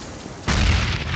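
A single grenade blast in Counter-Strike, a sudden heavy boom that breaks out after a quiet moment and rumbles on loudly through the rest of the clip.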